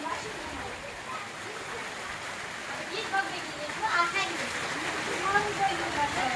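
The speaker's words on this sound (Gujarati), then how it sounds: "જો વરસાદ આવી ગયો બધા મળ્યા નાવા" Steady rain pouring down while children splash and bathe in it outdoors, with continuous watery spatter and children's voices calling over it throughout.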